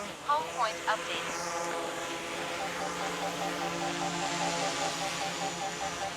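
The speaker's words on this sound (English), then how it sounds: "The sound of the props sounds identical to the Air 3." A DJI Air 3S drone in flight, its propellers giving a steady high-pitched buzzing whine at moderate distance, with a few brief louder chirps near the start.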